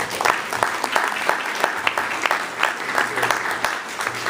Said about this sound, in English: Let's give Brian a round of applause and our candidates as well.